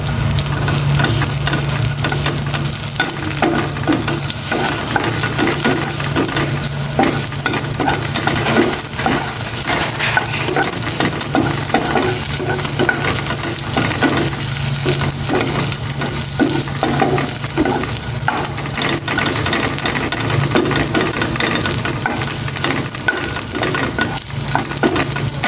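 Chopped onion sautéing in a hot oiled pan for a ginisang ampalaya with egg, with a dense steady sizzle and repeated scraping stirs running close and loud throughout, no talking.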